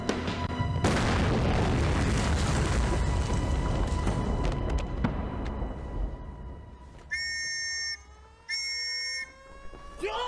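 A dynamite blast in a Chinese anti-Japanese war drama: a sudden heavy boom opens, followed by a long rumbling, crackling roar that slowly fades, then two short high electronic tones near the end.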